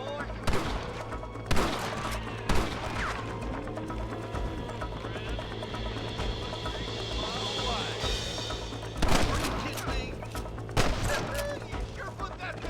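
Bursts of gunfire cut through a Red Dead Redemption shootout with rustlers, with sharp loud volleys coming in clusters over a steady background hum while game voices talk.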